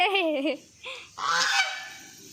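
Two large geese honking loudly up close by a pond, a few harsh nasal calls in quick succession before fading out.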